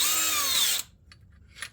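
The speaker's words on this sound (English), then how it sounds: "now I'm going to grab the drill bit that comes with the kit" A power drill runs loud and close with a high whining drone while drilling during a gauge install on a vehicle, then cuts off abruptly and leaves a couple of faint clicks and rustles.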